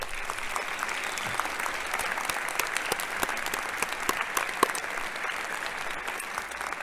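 Audience applause at a fall university commencement ceremony, a steady, dense wash of many hands clapping from a large crowd in a hall, continuous throughout with faint cheers.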